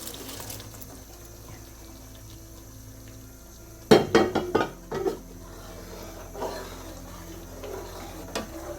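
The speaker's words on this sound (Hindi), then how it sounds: "अब इसके अंदर चने डाल देंगे।" Chickpeas are tipped into a pot of masala gravy, giving a quick, close burst of clattering, splashing thuds, then a few faint knocks against the pot.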